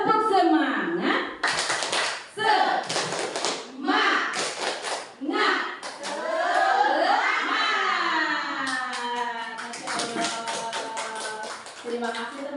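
Group performs a rhythmic Indonesian spirit clap (tepuk semangat) at the close of a school teachers' positive-culture session, with bursts of patterned clapping mixed with a leader's voice and group chanting throughout.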